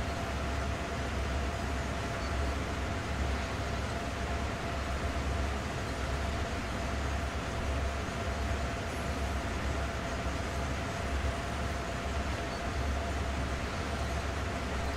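Train running in the game Train Sim World: a steady, even rumble and hiss of rolling stock with a faint sustained tone above it, continuous and unchanging throughout, with no talk.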